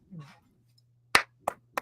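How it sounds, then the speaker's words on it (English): A few sharp hand claps, three distinct slaps spaced unevenly and close by, after a brief murmur of voice, with near silence between them. "That deserves an applause"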